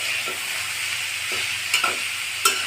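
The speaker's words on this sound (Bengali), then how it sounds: "বাঁধাকপিগুলো ভালোভাবে নেড়েছি," A spatula stirs cabbage frying in a pan, with a steady sizzle throughout and a few sharp scrapes and clatters against the metal near the end.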